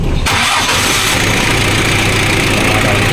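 A car engine cranks and catches during an alternator charging check, then runs loud and close at a steady idle with no pauses.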